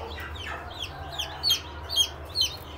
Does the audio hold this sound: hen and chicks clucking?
yes